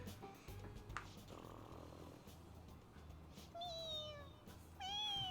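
Cartoonish cat meows from the Persona 5 Royal video game, two short rising-and-falling calls near the end over a low rumble of background game music, with a faint earlier chirp.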